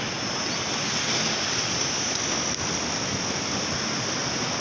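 Fast-flowing canal water rushes in a loud, steady, close roar that stays unbroken throughout, with no voices.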